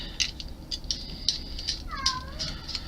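A cat meows nearby in a string of short, high, chirpy calls, with one longer drawn-out meow partway through and no talking.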